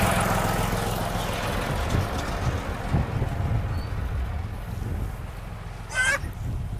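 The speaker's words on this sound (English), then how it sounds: "I'm gonna put the tractor way back so we don't have to listen to it" A farm tractor, left running because of a dead battery, idles at a distance as a low, steady rumble throughout, with a brief honk-like call near the end.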